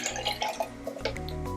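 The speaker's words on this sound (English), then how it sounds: "then I pour it back into my cup" Water poured from a shaker-type container back into a cup to rinse out pre-workout powder, a close, steady trickle with small splashes and drips running throughout.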